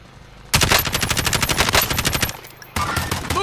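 Rapid automatic gunfire in Call of Duty: Warzone rattles in a long sustained burst of evenly spaced shots, pauses briefly, then resumes with another close, loud burst.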